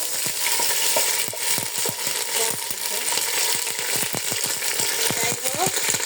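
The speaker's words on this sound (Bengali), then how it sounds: "আদা বাটা দিয়ে দিচ্ছি।" Ginger paste frying in a pan while cooking pulao, giving a steady close sizzle with scattered sharp clicks and scrapes of stirring throughout.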